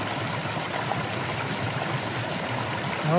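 In a Georgian mountain gorge, a river surges past with a constant, close hiss and roar of moving water, holding one even level throughout.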